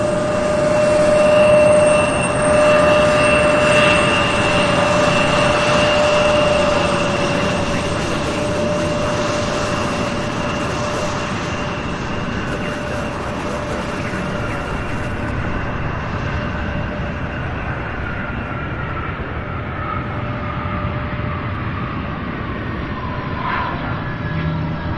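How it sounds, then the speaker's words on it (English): A UPS cargo jet, flight 2807 from Denver, lands at Louisville airport with a loud, sustained roar. The engine whine holds steady as the sound fades slightly, then stays as a broad rumble. "Beautiful landing"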